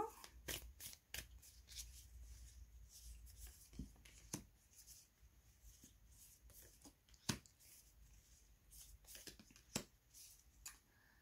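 Small cards are drawn and laid out for a tarot-style reading, giving soft papery flicks and snaps at irregular moments, close and quiet, with no talking.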